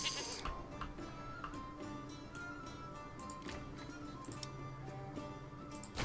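Goats bleat repeatedly in the medieval city-building video game Manor Lords, several faint calls over a steady ambient game soundscape with light ticking.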